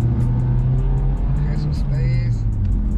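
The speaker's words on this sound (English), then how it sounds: "here we go, first gear, I'm on the freeway." Honda Civic Type R FK8 accelerating in first gear on a freeway, heard from inside the cabin as a steady, loud, droning engine note that holds throughout, with a voice present over it.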